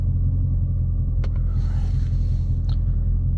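A six-speed Dodge Scat Pack sits with its engine rumbling at a steady, deep idle on a wet road, close and loud, broken only by a couple of brief clicks.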